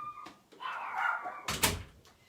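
Household dogs bark and whine as someone arrives home from work, muffled behind a closed door, with a sharp knock or door bang near the end; fairly quiet and somewhat distant.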